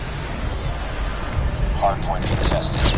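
Gunfire from the mobile shooter game Call of Duty Mobile, with rapid overlapping shots in a dense, busy firefight and a sharper burst near the end, all under steady game noise.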